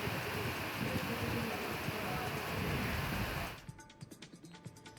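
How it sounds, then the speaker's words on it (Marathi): Steady rain falling overnight in Sindhudurg district, heard as a dense, even wash of drizzle that runs loud and unbroken for most of the clip before dropping abruptly to a quieter patter with scattered drips. "सिंधुदुर्ग जिल्ह्यात रात्रभरापासून पावसाची रिपरिप सुरू आहे"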